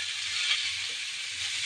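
Leafy greens hitting a hot pan give a steady, close hiss of sizzling frying, with no talking.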